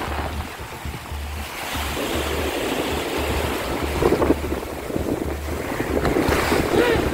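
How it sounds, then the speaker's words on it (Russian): Ocean surf rolls and crashes continuously, mixed with gusty wind buffeting the microphone; no voices. "слышите шум прибоя?"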